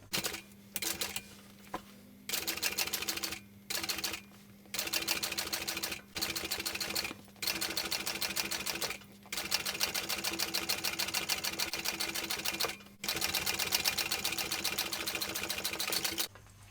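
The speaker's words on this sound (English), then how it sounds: "So I'm going to top stitch" A sewing machine top-stitches bag seams in rapid mechanical bursts, whirring for a few seconds at a time, pausing briefly and starting again, close and clear with no talk.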